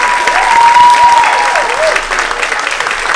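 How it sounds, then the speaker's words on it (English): Loud, dense audience applause at a seniors talent show, sustained clapping throughout with a few whistles or voices rising over it. "So let's give Morning Pointe another round of applause as well."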